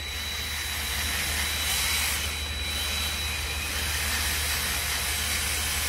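A slow-speed drill mixer spins steadily in Proseal sealant while prepping fuel tank ribs on a Sling TSi, giving a continuous hissing whir that holds an even level throughout.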